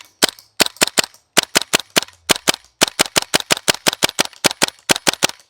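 Rapid bursts of sharp cracking shots from a GHK G5 gas airsoft rifle, close and loud, fired in quick back-to-back groups with short gaps between volleys.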